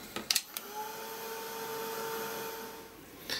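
A small heat dryer whirs steadily at close range, drying paint on a mixed media art journal page, with a few soft taps at the start and end.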